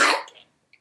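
A single sharp cough bursts close to the microphone and quickly trails off into quiet, followed by a faint small sound.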